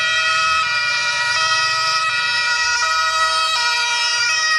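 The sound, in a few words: toy ambulance siren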